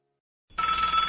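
A telephone rings after half a second of silence, then a loud, steady, bright electronic ring carries on to the end, close and alone.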